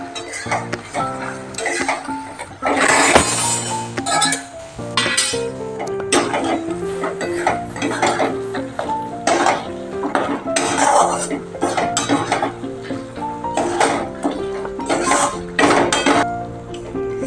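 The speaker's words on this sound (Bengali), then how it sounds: "এভাবে নেড়ে চেড়ে দিচ্ছি।" Chhana pieces being stirred in thickening sugar syrup in a pan for chhana shitol, with steady metallic scraping and clinking of a spoon against the pan, busy and close throughout, with no voices.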